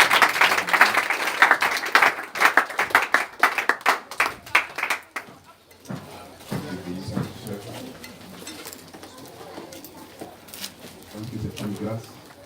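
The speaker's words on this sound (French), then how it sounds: "Est-ce que nous pouvons donner une main d'acclamation?" Church congregation applause at a French-language service, dense clapping for about five seconds that then thins into scattered claps under a man's speech.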